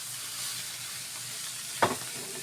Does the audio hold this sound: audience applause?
no